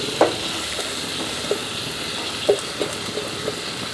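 Sliced onions fry in a pan for mutton stew, giving a steady close sizzle broken by a few sharp clinks as the spoon stirs them.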